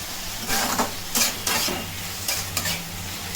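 Spices and ginger garlic paste, with a little salt and sugar, sauté in a pot for a Bengali mutton curry: a continuous loud frying hiss with several bursts of stirring scrapes from a spoon, no voices.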